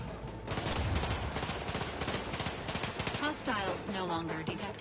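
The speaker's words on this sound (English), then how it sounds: "The gunfire has ceased." Rapid bursts of automatic gunfire in the video game Outer Worlds 2, dense and continuous across the whole span, with a voice and electronic game tones mixed in toward the end.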